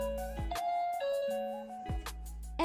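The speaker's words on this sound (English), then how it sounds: "Also serves as a doorbell." The Loock G01 smart lock on a glass swing door sounds its doorbell: a bright electronic chime melody of sustained tones with a few soft knocks in between, close and clear.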